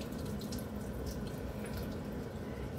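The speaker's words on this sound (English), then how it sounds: "the directions say to rinse this with a lot of water" Tap water runs steadily into a sink while food is rinsed and drained, a continuous broadband splashing rush at close range with no talk over it.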